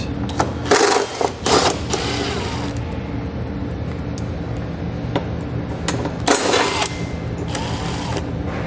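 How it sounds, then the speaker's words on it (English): A ratchet with a 10mm socket backs out the outer bumper bolts on a 2019 Jeep, giving two short bursts of rapid mechanical clicking, close and fairly loud, over a steady low background. "The 2 outer ones, I'm going to be using a 10mm socket to pull it out."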